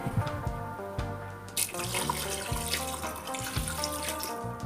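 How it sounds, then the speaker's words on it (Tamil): Water pours steadily into a pot of Chettinad mutton gravy, a continuous splashing stream heard close up over a background of steady music. "தேவையான அளவு தண்ணி ஊற்றிக்கலாம்."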